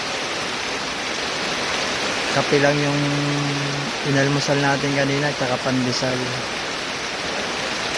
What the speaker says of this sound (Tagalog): Hintay tayo na ng pagtila ng ulan.